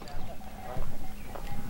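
A horse pulling a farm cart in the countryside gives faint, soft hoof clops under rural background noise and a steady tonal hum, with muffled talk mixed in.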